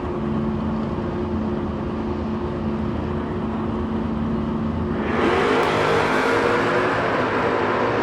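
A Camaro drag race car at a Door Wars drag racing event holds a loud, droning engine note, then surges into a harder, brighter rev partway through, close and continuous with no speech.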